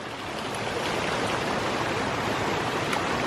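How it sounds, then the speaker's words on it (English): A flooded stream with water pouring out everywhere makes a loud, constant rushing roar, steady and close, with no voices. "This is normally the small spot of the stream. Not today. Got water pouring out all over the place."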